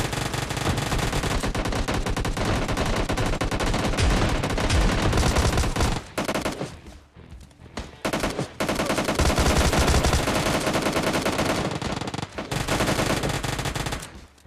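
Uzi and shotgun fire crackle in a battle royale video game, with dense, loud, rapid automatic bursts nearly continuous, broken by a brief lull before the shooting resumes just as intensely.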